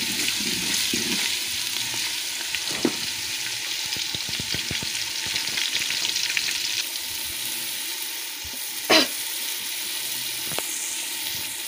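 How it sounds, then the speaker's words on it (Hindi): Garlic frying in a pan gives a steady, moderate sizzle close by, with occasional scrapes and clinks of stirring and one brief louder clatter near the end, with no talking. "अब इसमें लहसुन डाल दिया है, इसे भून लूँगी।"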